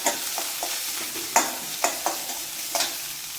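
Onions and green chilies sizzle steadily in a hot pan, with a spoon scraping and stirring in a series of sharp, close clinks over the continuous frying hiss; no talk.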